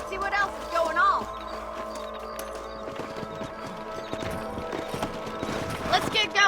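Hoofbeats of horses ridden in the Red Dead Redemption video game clop steadily throughout, joined by a short whinny and game ambience, with talk over the top.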